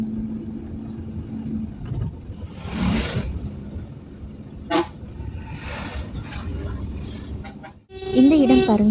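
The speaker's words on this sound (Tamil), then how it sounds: "கண்டிப்பாக ஹாரன் கொடுத்துட்டு தாங்க போகணும்" Car horn honks on a narrow, winding hill road to Valparai near Aliyar Dam, a bright multi-tone blast near the end after a steady engine rumble, with a couple of shorter sounds earlier.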